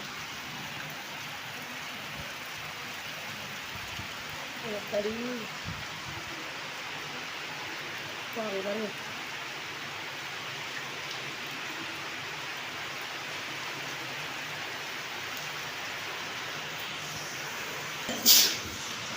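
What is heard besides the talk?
heavy rain falling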